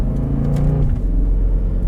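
A 2014 Jeep Grand Cherokee SRT being driven gives off a steady, deep engine rumble with a brief rise in pitch, heard close from inside the cabin with no talking.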